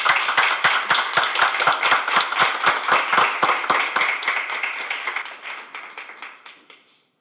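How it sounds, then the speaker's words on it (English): A small group claps at a school board of education meeting, distinct rhythmic claps at close range that thin out and fade to silence near the end. "please join me in just giving all of them a big round of applause and appreciation"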